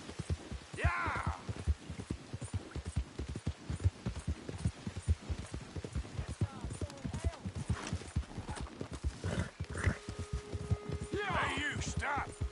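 A horse in a video game gallops with rapid, continuous hoofbeats and gives a couple of neighs, one early and one near the end. Voices speak over the galloping.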